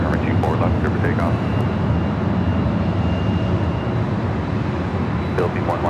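An airliner takes off from runway 24 left at LAX: a steady, loud jet roar fills the whole stretch while radio voices talk over it.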